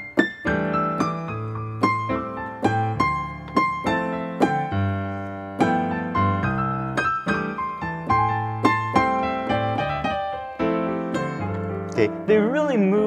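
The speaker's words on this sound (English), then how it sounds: "Here's the sound of triplets." Piano playing a cocktail jazz triplet exercise, chords and moving lines in a steady, rolling triplet rhythm, clear and close with no talking.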